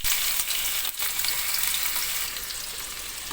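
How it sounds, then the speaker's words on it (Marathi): Onion sizzles steadily in hot oil with mustard seeds and cumin, a close, continuous frying hiss with faint stirring and no talk. "हा कांदा पूर्ण परतवून घ्यायचा"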